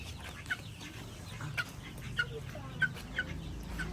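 Cayuga ducks, a US breed, calling on a farm, with short clucking calls at intervals of about half a second to a second, close by over a low rumble of background noise.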